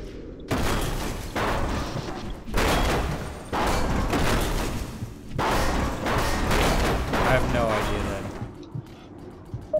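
Rapid bursts of gunfire in the video game Alien Swarm, loud and close in several sustained volleys with thumps and booms, running under the voices of players talking.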